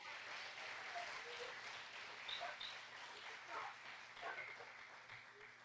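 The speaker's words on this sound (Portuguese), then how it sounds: "Vamos aplaudir o nome do Senhor." Steady applause from a church congregation fills the space, with faint voices and a few higher cries scattered through it, fairly distant and quiet.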